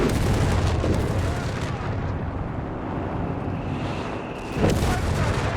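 Panther tank firing on a Sherman in Company of Heroes 3, a dense battle scene with loud booming cannon blasts and rumbling explosions, the heaviest burst near the end, over constant combat noise.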